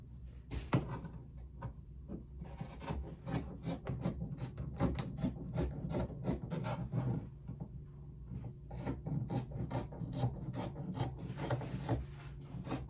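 A pattern being traced onto stretch fabric for a two-piece skirt, made of close, dry scratching strokes repeated in quick uneven bursts, with no voices.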